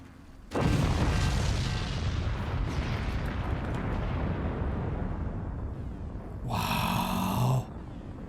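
Nuke strike in the Forts RTS game, a sudden huge blast followed by a long rumbling roar that slowly fades, then a separate bright crackling burst near the end.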